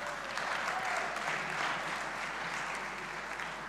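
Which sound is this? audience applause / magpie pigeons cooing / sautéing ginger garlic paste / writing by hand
audience applause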